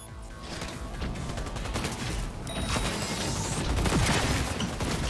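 Rapid gunfire from a shootout in the video game Cyberpunk 2077, a dense, continuous barrage of shots and impacts layered with game effects, loud and sustained across the whole stretch with no break.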